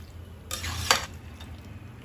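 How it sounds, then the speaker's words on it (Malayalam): Soya chunks stirred with masala in a pan make a short scraping, clinking stir of about half a second, fairly close, then a brief trailing scrape with no talk. "നന്നായിട്ട് ഇളക്കി ഇതെല്ലാം കൂടെ ഒന്ന് യോജിപ്പിക്കണം"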